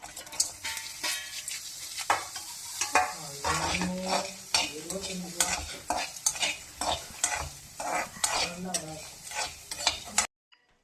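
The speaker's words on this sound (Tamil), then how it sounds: "தென் இந்த இன்க்ரீடியன்ஸ் எல்லாமே போட்டு நம்ம ட்ரை ரோஸ்ட் பண்ண போகிறோம்" Spice ingredients and grated coconut are dry roasted in a pan while being stirred, giving repeated scraping strokes with a light sizzle and occasional clinks of the utensil against the pan, close and clear, with no voices.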